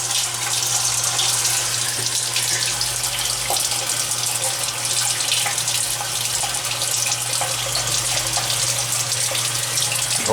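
A 1981 Whirlpool washing machine fills with water in a garage laundry, giving a steady, close rush of running water with a low constant hum underneath and no talk.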